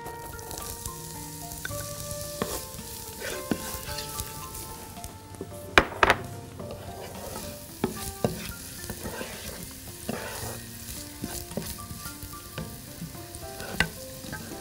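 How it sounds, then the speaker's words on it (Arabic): Onion and meat stir-frying in a pan for a potato and meat casserole, a steady close sizzle with scraping stirs and a few sharp clicks of a utensil against the pan. "نحط بقى دلوقتي البصل ونعصج اللحمه بتاعتنا"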